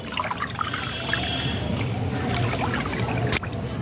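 Water and fertilizer mixture being stirred in a container for garden plants, giving a steady close sloshing and trickling swirl of liquid throughout, with a brief sharp knock near the end.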